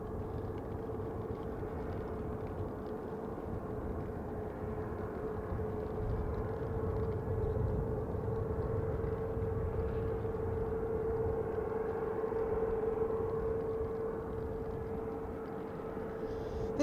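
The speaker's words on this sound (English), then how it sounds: "In a moment or two we'll have a EasyJet arriving from Belfast." EasyJet Airbus A320-200 arriving from Belfast at Manchester Airport, a steady distant jet roar with a sustained whining tone that holds for the whole stretch and swells slightly midway.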